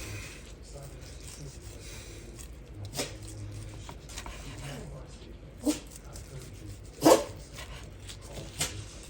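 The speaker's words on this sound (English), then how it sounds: "my little doggies are waiting for something to drop" Pet dogs whimpering and giving a few short yips while waiting for scraps in a home kitchen during cooking, sporadic, near and fairly quiet, over low background noise.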